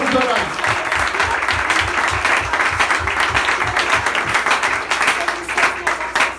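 A church congregation applauds during a worship service, a dense sustained wash of many hands clapping at close range with some voices mixed in, steady and loud throughout.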